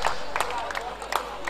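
Spectators at a local cricket match applaud and cheer a boundary stroke, scattered clapping bursts and crowd noise with a voice talking over it.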